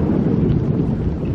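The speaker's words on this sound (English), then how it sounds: "And I don't know if you can tell how windy it is." Strong wind buffets the microphone in a loud, continuous low roar with no voices.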